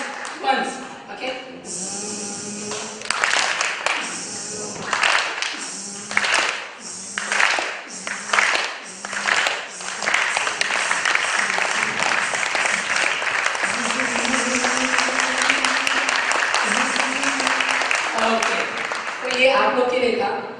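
An awards-night audience breaks into loud, sustained clapping, starting in uneven bursts and swelling into a dense, steady roar of applause for about ten seconds, with voices audible underneath.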